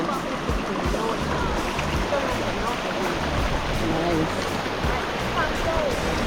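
River water rushes continuously at a riverside, a steady broadband wash that stays at even volume throughout, with a single brief spoken word partway through.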